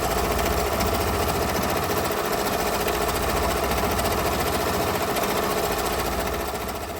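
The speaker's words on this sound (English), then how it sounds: "I know a lot of y'all love the way the embroidery sounds" A Ricoma EM-1010 embroidery machine stitches steadily, its needle hammering in a fast, even mechanical rhythm with a constant motor whir, loud and close, running alone without pause and easing slightly at the end.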